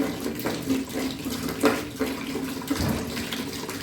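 Two liters of water pour into a container for homemade bar soap made from used cooking oil, a continuous splashing trickle with small bursts and gurgles at moderate volume.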